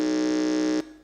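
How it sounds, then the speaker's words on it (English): A quiz-competition buzzer at a school junior science and maths contest sounds once, a loud, harsh, steady electronic buzz lasting under a second before cutting off abruptly into near silence. "let's listen to the sound that comes from the buzzer"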